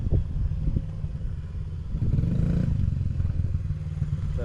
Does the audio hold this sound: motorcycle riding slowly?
yes